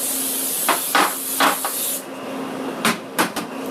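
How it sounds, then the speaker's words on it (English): Pam cooking spray misted across a baking pan for homemade marshmallows: a handful of short, sharp hissing bursts, close up, with brief pauses between them. "I'm going to take some Pam and I'm going to spray the whole pan, getting all the nooks and crannies"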